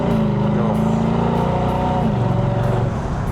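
A Mercedes-AMG SLK55 exhaust with factory mufflers drones steadily up close, its engine note rising and falling slightly as it runs at moderate revs, with no talking.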